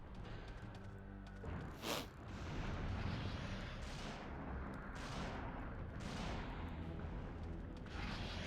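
Gunfire in the survival horror game Resident Evil 3 Nemesis, several heavy muffled shots with booming tails spaced a second or so apart over rumbling background.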